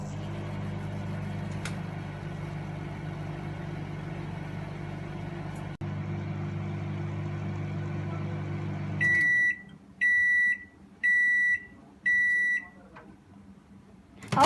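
A microwave oven runs on high power with a steady low hum and fan drone, then shuts off and gives a series of four loud, evenly spaced completion beeps.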